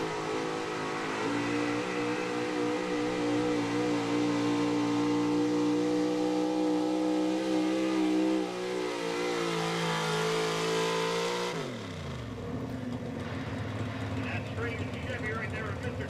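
A 1979 Chevy pulling truck at an Appalachian truck and tractor pull revs hard and steadily for about eleven seconds, then drops off sharply, with an announcer talking over the loud engine throughout.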